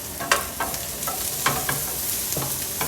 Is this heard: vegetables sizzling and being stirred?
yes